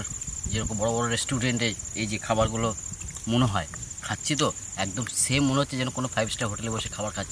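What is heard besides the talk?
crickets chirping by a riverside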